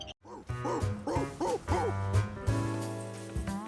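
A cartoon dog barks in a short run of about five yips over bright background music, fairly loud and close.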